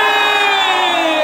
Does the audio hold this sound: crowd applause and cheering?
yes